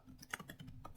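Typing on a computer keyboard: a quick, quiet run of soft key clicks over about a second, close and alone.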